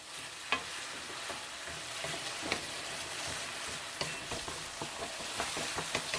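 Yam pieces stir-fry in soy sauce in a pan, a continuous close sizzle with soft scraping and stirring clicks at irregular moments, no voices.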